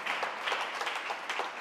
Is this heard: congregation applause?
yes